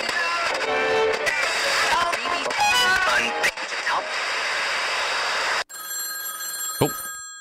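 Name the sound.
telephone ringing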